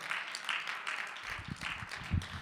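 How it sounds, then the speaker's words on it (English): An audience at a nonprofit talk claps in a brief, moderate round of applause that sounds somewhat distant, with a few low thumps under the clapping. "I think that deserves a round of applause."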